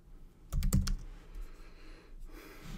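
Keystrokes on a computer keyboard, a quick cluster of close clicks followed by a few sparse taps, faint in a quiet room.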